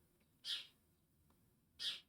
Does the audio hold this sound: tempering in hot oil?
no